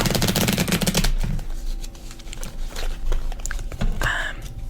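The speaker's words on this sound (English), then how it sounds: "a few extra shuffles and cuts." Playing cards for the game Nerts being shuffled, with a dense riffling burst at the start followed by scattered clicks and soft handling sounds.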